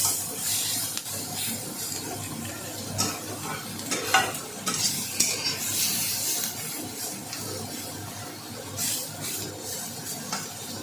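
Prawns fry with onions in a pan, a continuous bright sizzle and hiss broken by repeated scraping stirs, fairly close and with no talk.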